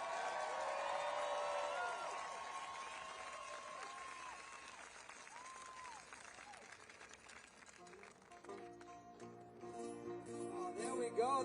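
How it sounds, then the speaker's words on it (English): Large crowd at a protest rally at the Lincoln Memorial in Washington, D.C. applauding and cheering, a sustained wash of clapping and whoops with whistles, loud and continuous, with amplified speech over it. "a big round of applause for all the people who worked so hard in putting all this together"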